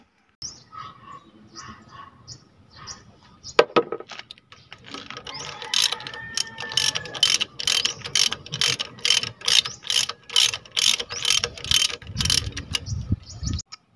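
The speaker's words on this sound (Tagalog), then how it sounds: "Iring ang sakit at ratchet ang aking ginamit upang maging mabilis ang proseso sa pagbaklas ng dalawang gulong na ito." A size 14 socket ratchet loosening wheel bolts during a brake repair, with rapid, evenly spaced clicking bursts that grow regular and loud, close by, after a few softer clicks and a knock.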